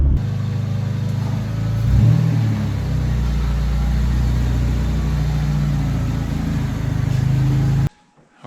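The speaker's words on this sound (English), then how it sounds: "now we're gonna limp this car to the paint booth" A 1993 Honda Civic show car with engine trouble is driven slowly to a paint booth, giving a loud, steady low engine drone with a brief surge, heard from inside and cut off abruptly near the end.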